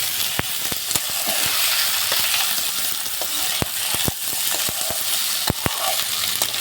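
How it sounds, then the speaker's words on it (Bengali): Potatoes are stirred and fried in a pan, with a loud steady sizzle punctuated by sharp, irregular knocks and scrapes of a spatula against the metal. "ভালোভাবে আলুটাকে নেড়ে নিয়ে"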